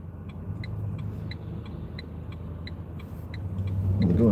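A car driving at night on a UK road between Wigan and Ashton-under-Lyne, heard from inside through a dashcam as a steady low engine and road rumble with a regular ticking indicator, swelling louder toward the end.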